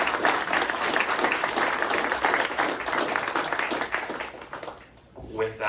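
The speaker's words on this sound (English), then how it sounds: "So please join me in a round of applause." An audience at a regional community event gives a warm round of applause, dense clapping from many hands that holds steady, then thins and fades out near the end as a voice begins.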